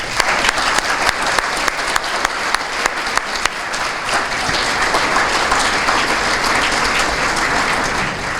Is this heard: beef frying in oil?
no